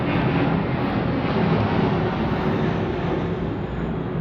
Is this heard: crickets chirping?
no